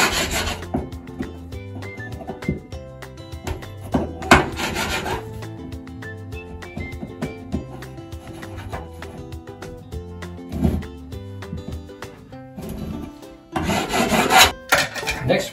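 A knife or rasp scrapes and rubs at drywall to widen a wall hole and strip off old paint, with repeated rasping strokes under steady background music.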